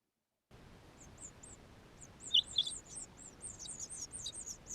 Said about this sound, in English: let's take a listen and see if we can hear them chirping